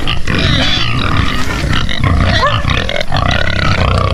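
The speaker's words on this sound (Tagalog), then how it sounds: "Yan po yung mga baboy namin, nag-antay na. Limang inahing baboy ito nandito." Five free-range sows grunt loudly and close by in a dense, continuous chorus of low, rough snorts and grunts.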